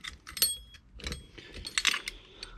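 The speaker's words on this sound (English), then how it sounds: "the bolt's resisting all the way through. You might even hear that. You can hear it grinding" A Maxus 5-lever BS mortice lock grinds as its bolt is turned open against resistance, giving faint, close scraping and clicking metallic bursts with brief pauses between them.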